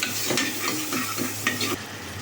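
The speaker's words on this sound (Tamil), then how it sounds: "வெங்காயம் நல்லா பொன்னிறம் ஆகிற வரைக்கும் நல்லா வதக்கிக்கலாம்." Chopped onion with spices sautés in hot oil in a pan, giving a steady close sizzle broken by several scraping stirs of a utensil, with no voices.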